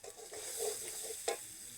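Spiced food for stuffed pointed gourd with prawns frying in a pan, stirred with soft scraping strokes over a low, steady sizzle, one sharper scrape near the end.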